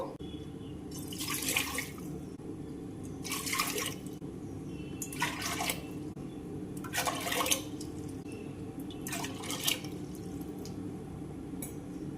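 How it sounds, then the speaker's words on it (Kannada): Four separate pours of water splash into a pressure cooker holding rice, each lasting about a second, spaced evenly over a faint steady background hum. "ಐದು ಕಪ್ ನೀರು ಹಾಕಿದೆ ನಾನು"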